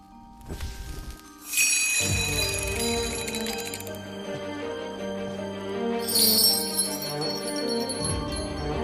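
A small bell rings out clearly, its bright metallic tone lingering, then sounds again near the end with a long shimmering decay.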